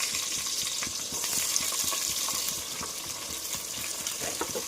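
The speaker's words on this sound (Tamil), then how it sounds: "நல்லா போட்டு வதக்கிக்கலாம்." Chopped onions sauté in a pressure cooker with whole cinnamon, cloves and cardamom for veg biryani, giving a steady, close crackling sizzle broken by regular soft scrapes and clicks of stirring, with no talk.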